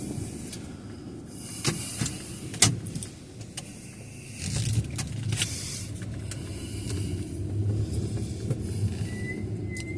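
A car drives through Portsmouth, Ohio, a low interior road rumble with tyre hiss that swells in the second half, punctuated by a few sharp clicks and knocks inside the cabin.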